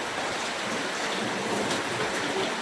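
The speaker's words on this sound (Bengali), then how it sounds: "এইদিকে দেখো কি বৃষ্টি হচ্ছে" Steady rain hisses down without a break onto a courtyard, an even wash of falling water close by with no voices.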